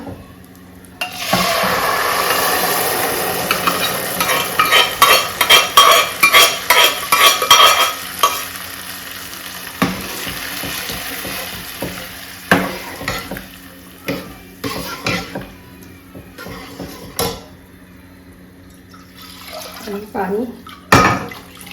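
Coconut frying in ghee as wheat for kheer is stirred in produces a soft sizzle, followed by scattered scraping stirs and clinks of a spoon against the pan, with quieter pauses between.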